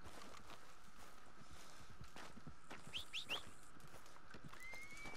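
Hooves clip-clop softly and a horse gives a short high whinny in Red Dead Redemption 2, faint against a quiet outdoor ambience, with a few clustered chirpy cries near the middle.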